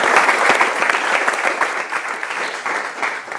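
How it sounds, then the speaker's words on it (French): An audience on a French-language show applauds a guest in a dense, steady round of clapping that stays loud and close for the whole stretch, easing slightly toward the end, with no talk over it. "Applaudissez pour lui."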